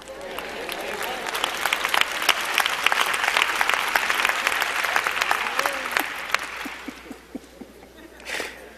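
A church congregation clapping during a sermon on marriage, a lively burst of crowd applause with distinct sharp claps and some voices mixed in, thinning out into scattered claps near the end.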